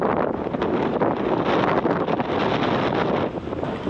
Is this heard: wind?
yes